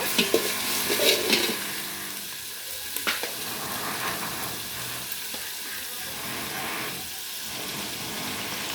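Spice paste with ground cumin is stirred in a cooking pot for chicken khichuri, giving repeated scraping and stirring strokes over a steady sizzle, close and moderately loud, with a few sharper clinks early on.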